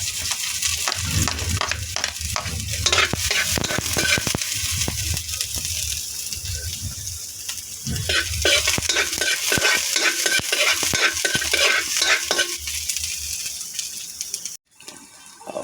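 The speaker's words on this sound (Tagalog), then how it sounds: "Yan mga idol, sasangkutsan na natin ang bawang. At sabay na natin yung sibuyas." Garlic and onion sautéing in hot cooking oil for chicken menudo: a continuous crackling sizzle with frequent utensil scrapes and clatters of stirring close by, running steadily for the whole stretch with a brief drop near the end.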